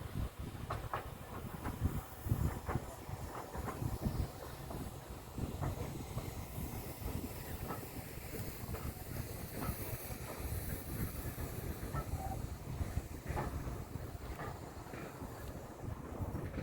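Steam locomotive number 2 hauls a three-coach train on the Tanfield Railway during a steam gala, a steady rumbling, hissing run of wheels and exhaust with wind buffeting the microphone throughout.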